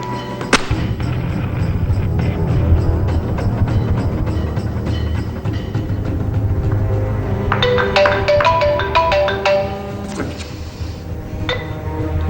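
A phone ringtone plays a bright, repeating electronic melody, rising partway through over a dull background hum, with a few sharp clinks and faint voices nearby.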